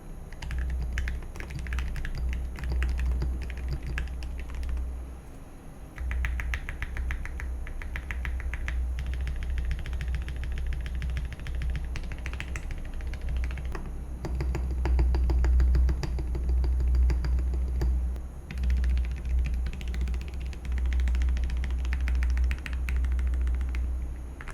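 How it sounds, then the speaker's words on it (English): Steady, rapid clacking of keys on a Mode Sonnet mechanical keyboard, close and crisp, continuing in bursts with brief pauses. "Here's how the keyboard sounds."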